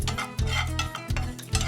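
Sesame seeds dry-roast in a pan with no oil, giving a close, steady crackle broken by a few rhythmic scraping stirs.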